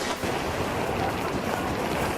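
Typhoon-driven surf up to ten metres high, striking Taiwan and mainland China, pounds steadily under roaring wind. The broadband wash is dense and continuous, with no voices.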